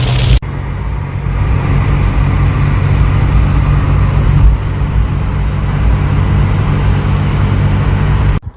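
A car moves through heavy rain on a Pakistani road. A loud, even engine and tyre drone runs under a continuous rain hiss, close up, with a brief sharp break near the start and near the end and no voices.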